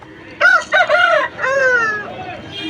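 A 17-month-old rooster crows loudly and close at a rooster market in Vijayawada, with a clear multi-part cock-a-doodle-doo followed by a drawn-out, fading final note.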